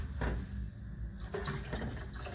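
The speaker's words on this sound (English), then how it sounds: "So we're going to be adding some water to this." Water poured into a cooking pot of ackee for Jamaican seasoned rice, a continuous quiet gushing splash that shifts slightly in tone as the pot fills, with no voices.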